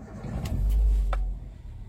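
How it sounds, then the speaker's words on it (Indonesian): A 2014 Daihatsu Terios TX manual SUV starting up, a brief starter crank followed by a low engine rumble that swells and settles to a steady idle, close and fairly loud. "Kita nyalakan mesinnya."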